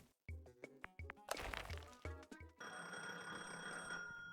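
In the video game Gemporium, a quick run of clicky interface taps and chimes gives way to a bright, electronic telephone ring that sustains with a shimmering, bell-like tone near the close.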